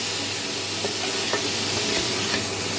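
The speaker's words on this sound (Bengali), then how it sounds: "এখন আমি এই মশলাটাকে একটু কষিয়ে নেব যাতে মশলার কাঁচা গন্ধটা চলে যায়" Spices sauté in a pan for a vegetarian squash and lentil dish, giving a steady close sizzle with a few soft stirring taps, no talk.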